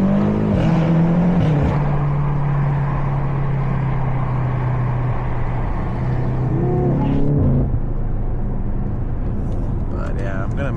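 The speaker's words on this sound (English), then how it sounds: "But this car is just so much fun, man. And it's just so loud" A loud car drives through a short tunnel, its engine roaring and droning steadily with a sustained low tone and revving shifts echoing off the walls, ending abruptly partway through.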